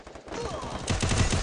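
Rapid gunfire rattles in a 4v4 match of a shooting video game, with dense bursts of shots that grow louder and heavier toward the end, without speech.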